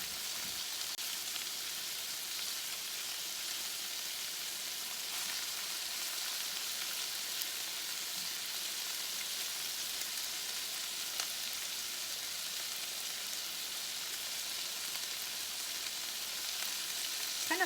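Salmon pieces fry in a pan with a steady, close hiss of sizzling oil that holds evenly throughout, with faint stirring sounds underneath.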